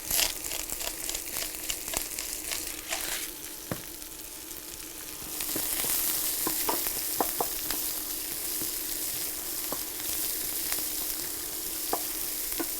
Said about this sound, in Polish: Możemy dorzucać całą resztę i smażyć wszystko razem.